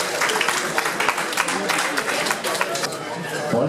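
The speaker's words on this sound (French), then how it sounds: "On les applaudit une nouvelle fois" A crowd applauds the podium winners at an UFOLEP cycling race, sustained clapping mixed with chatter, heard close and fairly loud throughout.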